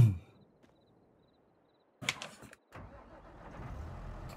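A tractor engine starts in Farming Simulator 22, an electric crank whir followed by the motor catching and settling into a steady low idle after a brief silence.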